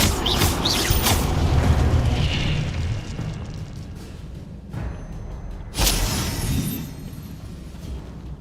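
Incendio fire spell being cast in the video game Hogwarts Legacy, heard as a run of loud booming, fiery bursts with whooshes, one strong blast near the end, all without speech.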